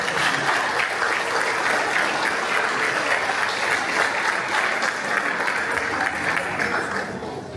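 Dense, steady applause from an audience for children from a primary school in Kalamaria after their songs, a full sustained wash of clapping that holds for several seconds before easing slightly at the close.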